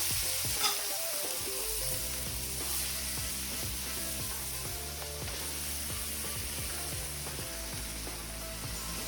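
Diced tomato sizzles in a frying pan in a steady, dense frying hiss, with rhythmic scraping strokes of stirring throughout. There is no talk.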